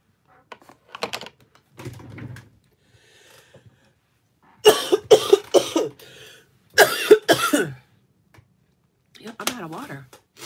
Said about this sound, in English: Here I go again, coughing up a storm.